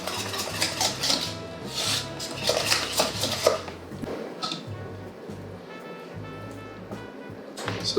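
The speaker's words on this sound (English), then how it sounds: "we're just stirring gently until it's all incorporated" Turkish delight paste being stirred in a pot as syrup is worked in, giving a steady run of soft scraping and clinking utensil-on-metal sounds with low background hum, close and moderately loud, no talk.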